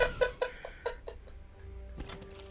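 Birds in Forspoken give a run of sharp clucking calls in a quick, fading rhythm, followed by a brief tonal squawk and scuffle near the end.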